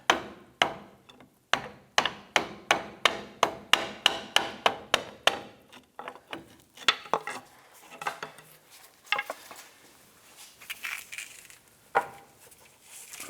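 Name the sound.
hammer tapping pry bar on clamp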